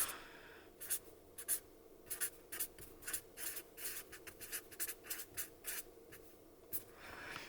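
Pen strokes scratching across paper in quick irregular bursts, close and fairly quiet, with short pauses between words, no talking.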